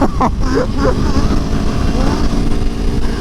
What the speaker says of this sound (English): Oh man, the sound of that V4,